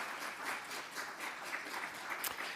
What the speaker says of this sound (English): Can we give this panel just a quick round of applause?